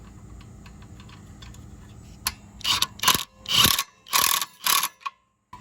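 A nut is tightened on the governor arm of a 79cc Predator small engine, heard as a quiet run of light clicks followed by four or five loud, close bursts of rapid ratcheting, each cutting off sharply.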